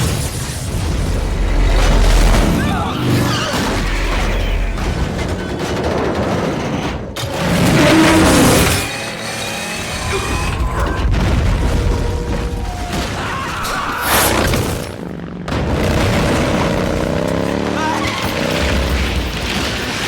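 Explosions in Metal Gear Solid 3: Snake Eater: repeated heavy booms with deep low rumble, interspersed with gunfire and mechanical clatter, loud and dense across a long stretch of game action.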